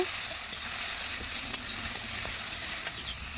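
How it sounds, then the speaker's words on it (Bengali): Fried fish pieces stirred in a pan with turmeric give a steady close sizzle, with occasional light clicks and scrapes of a spatula against the pan. "এখন ভেজে রাখা মাছগুলো দিয়ে আবার ভালো করে নাড়িয়ে নিব"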